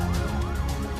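Ambulance siren wailing in a rising and falling sweep, loud and continuous throughout the short stretch, set against a dense layer of low background rumble with no speech.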